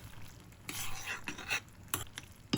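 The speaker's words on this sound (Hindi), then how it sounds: "बस इसमें बॉइल्ड मैकरोनी में डाल रही हूँ" Boiled macaroni goes into a pan of sauce and gets stirred, giving a few scraping and clinking utensil strokes against the pan at close range, with short pauses between them and a sharper knock at the end.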